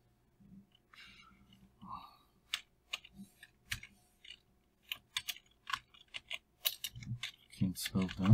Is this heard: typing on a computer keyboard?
yes